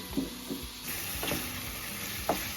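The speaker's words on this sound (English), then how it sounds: "while we're letting this simmer and cook" Tater tot casserole simmering in a pan on a stovetop gives a steady soft sizzle, broken by a few sharp scraping stirs and clinks, close and quiet.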